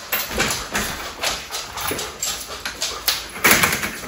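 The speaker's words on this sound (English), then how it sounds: "Go puppies, go crazy. We're here for the puppies." Puppies whimper and yip in quick, repeated bursts while scrabbling about close by, the busy rhythm of play continuing throughout.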